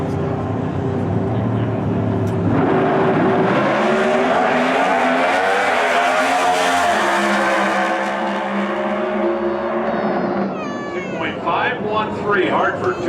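NHRA Pro Stock drag race cars on a qualifying run, a loud, rising engine wail that climbs in pitch and roars for several seconds before easing off, with squealing, warbling tones near the end and commentary over it.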